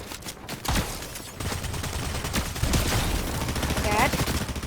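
Assault rifle fire in the Fortnite video game: dense bursts of shots, loud and close, crackle through most of the stretch over a busy game background.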